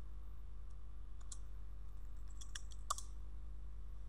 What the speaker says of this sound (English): when we click on lock button